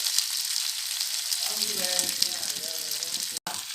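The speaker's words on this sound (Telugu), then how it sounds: "స్లోగా కొంచెం పైన నుంచి ఆయిల్ వేసుకుందాం" Oil spooned slowly over pepper-coated fish frying in a pan, a loud steady sizzle with bubbling crackle that swells as the oil lands, plus a faint voice and a brief cut near the end.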